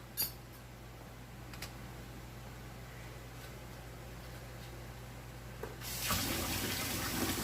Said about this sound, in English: now I'm going to add water to the bottom